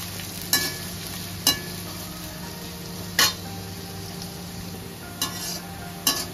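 Onions fry in oil with bay leaf and whole garam masala for mutton bhuna, a steady sizzle broken by several sharp clinks of a spatula against the pan.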